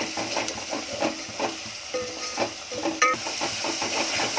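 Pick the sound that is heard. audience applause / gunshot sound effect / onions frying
onions frying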